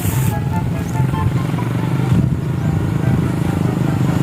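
A Honda Raider 150 Fi motorcycle engine drones steadily while riding, a loud low rumble with slight rises and dips in pitch throughout.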